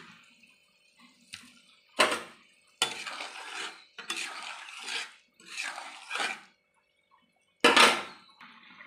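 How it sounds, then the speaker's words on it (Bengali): Fried jackfruit koftas drop one by one into a boiling curry in a pan, making several close, separate bursts of splashing and clattering between quiet gaps. "আমার ঝোলটা ফুটে উঠেছে, এবার আমি এগুলো দিয়ে দেবো যেগুলো ভেজে রেখেছিলাম এঁচোড়ের কোপ্তা।"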